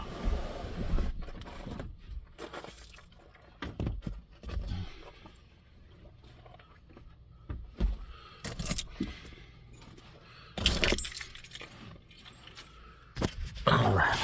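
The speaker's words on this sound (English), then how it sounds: "I had to grab the keys" Car keys for a GMC truck jangle and clink in several short bursts as they are grabbed, close and fairly loud, separated by quieter handling noise.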